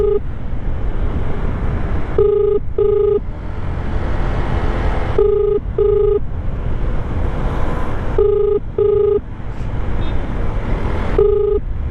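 Through an intercom, a phone call rings out unanswered, with paired electronic ring tones repeating at regular intervals over a constant low hum and rumble.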